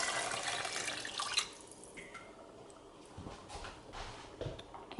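Water pours into a stew pot of spinach and dried plums as a soft, quiet splashing trickle with a few faint drips and clinks.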